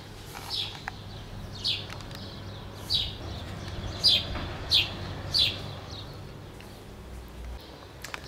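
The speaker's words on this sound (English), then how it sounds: "The birds are a-chirping" Birds chirp outdoors on a May day in Cyprus, with about seven short, high calls spaced a second or so apart over a quiet, low background hum.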